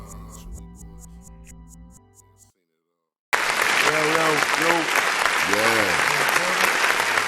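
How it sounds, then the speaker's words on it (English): Crowd applause breaks out loudly after a music intro and a short pause, a thick sustained wash of clapping with people talking and calling out over it. "round of applause"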